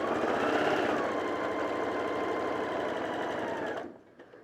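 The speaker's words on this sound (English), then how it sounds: "You are going to be sewing up the sides" A sewing machine stitches up the sides of a small fabric gift bag made from leftover fabric, running in a steady fast rhythmic whir for nearly four seconds before stopping abruptly.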